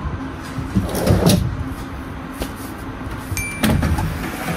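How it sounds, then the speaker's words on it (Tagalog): An aluminum dresser drawer glides shut on a soft-close runner, making a few muffled bumps and a gentle sliding sound amid room noise. "may drawer sa ilalim, soft close"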